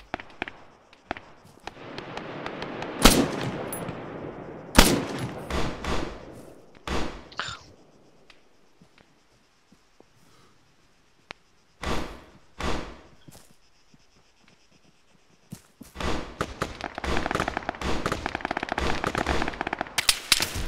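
Automatic machine gun fire in the Arma 3 shooter, loud bursts of rapid shots with sharp single cracks between them, quiet gaps, then a long sustained stretch of firing near the end; no talking.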